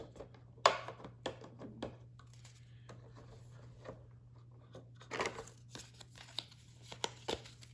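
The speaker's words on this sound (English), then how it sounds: "Show you some of the cards here. I'm going to pull them out." Game cards for a Disney Sorcerer's Arena expansion are pulled from their packaging, with quiet crinkling, tearing and sliding rustles in irregular bursts over a low steady hum, close and fairly faint.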